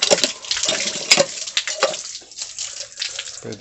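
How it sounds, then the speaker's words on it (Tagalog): Strong, steady rush of water pouring from a tap, loud and close, with a few clanks and splashes mixed in. "Malakas ang tubig dito."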